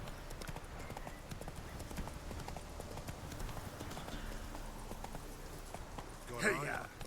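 Horse hooves clip-clopping at a quick steady pace in the Witcher 3 video game, continuous under game ambience and someone talking, with a short louder burst near the end.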